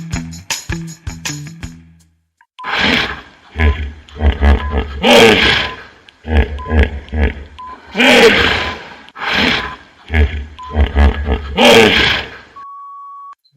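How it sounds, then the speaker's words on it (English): A hippopotamus calls in a series of deep, loud roaring grunts and bellows, several bursts in a row after a few short electronic beeps, with no talk over them. "Hippopotamus."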